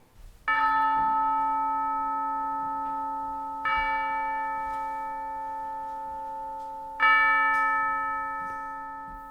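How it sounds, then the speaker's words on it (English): A clock chimes three times, each clear bell-like strike ringing out and slowly fading before the next, evenly spaced, in a quiet room. "Let's hear how many chimes it is this time."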